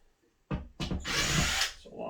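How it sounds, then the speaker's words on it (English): Cordless power drill spinning up in short bursts near a bathroom wall during a double towel rack installation, two quick whirs followed by a longer steady whine, then a faint tail. "I'm going to use my drill"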